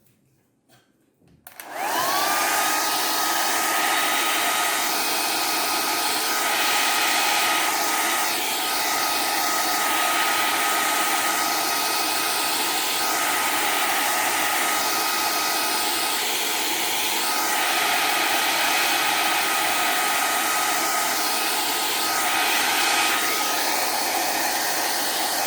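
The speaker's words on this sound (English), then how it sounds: "I'm going to use the hairdryer again so we can move on to the next stage" After a brief quiet moment, a hair dryer switches on and blows with a loud, steady whoosh that continues unbroken.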